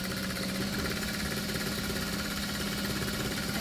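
Sewing machine back-stitching a handbag strap at a long stitch length, a fast, steady mechanical whirring hum with rapid rhythmic needle clatter, close and continuous.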